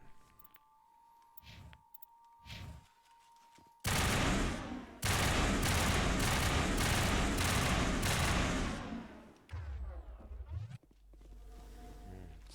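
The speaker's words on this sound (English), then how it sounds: "It's burst fire." Burst-fire rifle shooting in Mass Effect Legendary Edition, with loud rapid bursts repeating for several seconds after a quieter opening, then trailing off into softer game sounds.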